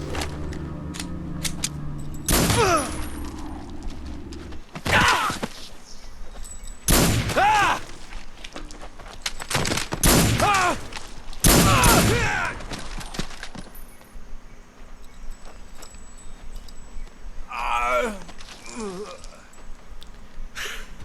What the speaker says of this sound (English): Was he really shooting very fast, or were they just not shooting him?